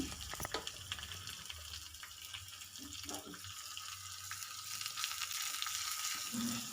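Green chillies, curry leaves and asafoetida hit hot tempering oil with a steady sizzle and crackle, a few brief spits near the start, close and moderately loud throughout.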